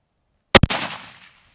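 A single sharp rifle shot fired at a 10-inch target at long range, loud and abrupt, with a quick second crack and a decaying rumble trailing off into silence.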